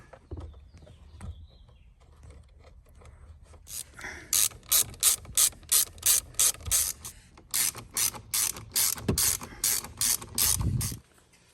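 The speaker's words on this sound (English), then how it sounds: "we're just going to put our bolts back in on the side here" Hand ratchet tightening bolts while a steering wheel is fitted to a 2021 Chevy Silverado 2500 HD: a close, steady run of rapid clicking strokes after quiet handling noises.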